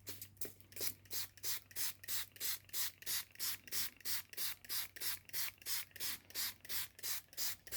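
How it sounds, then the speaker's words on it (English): Rapid repeated squirts of water from a trigger spray bottle onto a painting surface, over twenty even bursts in a steady rhythm, close and fairly loud. "So I'm going to spray a lot of water on here"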